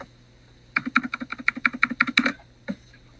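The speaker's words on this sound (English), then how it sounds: "so the reason why I was spamming my keyboard" Rapid typing on a computer keyboard, a quick dense burst of key clicks for about a second and a half, then one last isolated keystroke, close and fairly loud with no talking.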